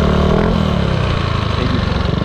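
Yamaha Aerox 155 scooter fitted with a ROB1 aftermarket exhaust, a brief close engine burst with a pulsing, throbbing exhaust note that settles toward idle.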